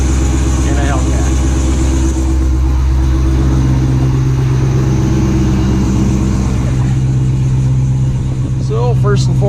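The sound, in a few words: Dodge Hellcat engine idling loudly in the cold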